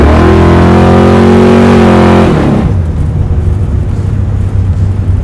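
A 700hp all-motor big-block Camaro engine roars at high revs with strong harmonic growl, then drops sharply to a deep, lumpy idle rumble about halfway through, loud and close with no talk.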